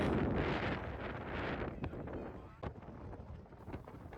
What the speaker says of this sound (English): Not only is it windy on the bridge by itself